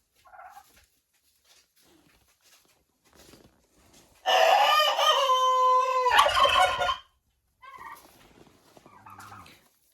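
A rooster in a winter henhouse lets out one loud, close crow lasting about three seconds, with faint clucks and rustling before and after it.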